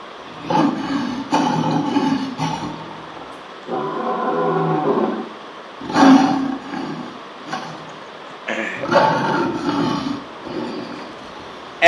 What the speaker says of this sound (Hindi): शेर, शेर की आवाज सुनाओ।